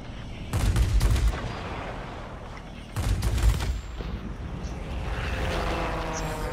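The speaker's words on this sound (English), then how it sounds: "Are you shooting at my buddy?" Rapid bursts of aircraft gunfire in the World of Warplanes air combat game, with two loud rattling volleys over a steady roaring engine drone, the plane a Focke-Wulf Ta 183 Huckebein jet fighter.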